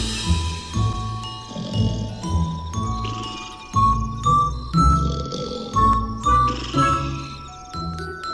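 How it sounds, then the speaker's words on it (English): Chiming bell tones ring out in a ding-ding-dong pattern within a children's nursery song, the 'Are You Sleeping, Brother John' tune, layered over bright instrumental accompaniment in steady repeated phrases. "morning bells are ringing, morning bells are ringing. Ding-ding-dong"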